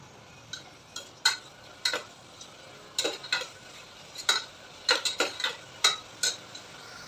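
Biryani masala is stirred in a pot over a high flame, a spoon scraping and clinking in a series of distinct close strokes over a faint sizzle.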